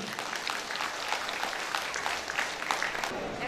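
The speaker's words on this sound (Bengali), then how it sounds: "সবাই হাততালি দিয়ে বরণ করে নিন।" An audience at an interfaith religious conference claps steadily and continuously to welcome guests onto the stage, a dense, even round of applause throughout.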